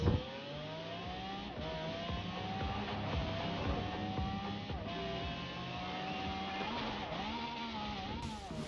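Car racing in Forza Horizon 4, its engine holding a steady drone with rising pitch sweeps as it accelerates and shifts gears, continuous and fairly loud with game music mixed underneath.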